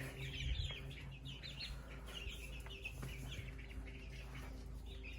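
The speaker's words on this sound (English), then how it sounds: "our little chickies just got moved out of the brooder and into the big pen." Young chicks newly moved from the brooder into the big pen, faint soft cheeps and clucks scattered over a low steady hum, with a brief louder thump near the start.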